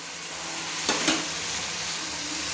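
Spices frying in oil for chicken curry, a steady bright sizzle close by, with a couple of soft stirring scrapes near the middle.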